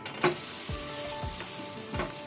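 Rava and coconut flatbread fries in coconut oil on a hot pan, giving a steady sizzle with a few short scraping strokes as it is spread and turned.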